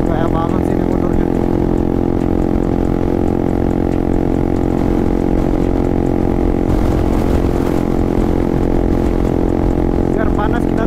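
A motorcycle engine drones loud and steady while riding along a road toward Malino, a constant close engine roar with wind noise and no clear change in speed throughout.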